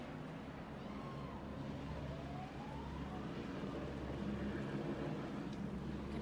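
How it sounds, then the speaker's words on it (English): Police sirens wail faintly in the distance at a George Floyd protest in Las Vegas, a rising and falling tone over constant outdoor crowd and traffic noise. "You can hear police sirens in the background."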